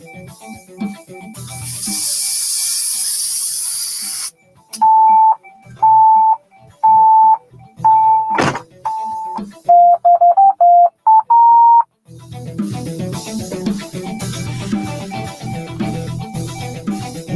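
A Kicker DSP unit runs its setup sequence, first a burst of hiss, then a series of clean, evenly spaced electronic beeps and a quick run of tones, followed by a broadband noise signal that fills the rest.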